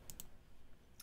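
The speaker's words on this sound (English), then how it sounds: "Also, I'm playing on my keyboard" A computer keyboard clicks three times while someone plays Lego Lord of the Rings: two quick taps close together, a pause, then one more tap, all faint over a low background hum.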